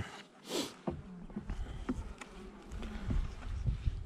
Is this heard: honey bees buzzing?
yes